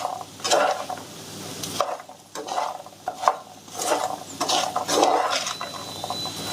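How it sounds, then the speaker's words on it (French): Caramelized peanuts are stirred in a pan, close and fairly loud, with repeated irregular scraping and rattling strokes of nuts and sugary coating against the pan, broken by brief pauses. "On mélange"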